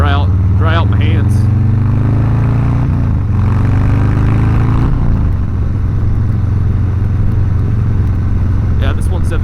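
A 2022 Harley-Davidson Low Rider S with a 117 engine rumbles steadily at riding speed, with short throttle rises and wind roar underneath someone talking over it.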